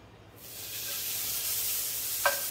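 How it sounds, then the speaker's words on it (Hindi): Okra (bhindi) frying in a pan, a steady close sizzling hiss that rises in the first half-second and holds, with a faint clink near the end. "तो देखो भिंडी फ्राई हो गया और थोड़ा सा जितना बचा है वो भी फ्राई कर लेती हूँ"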